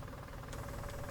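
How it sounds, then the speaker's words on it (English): Steady low tractor engine drone from a farming video game, a continuous idling rumble with faint knocking texture, loud and unbroken with no talk over it. "I love the way this tractor sounds."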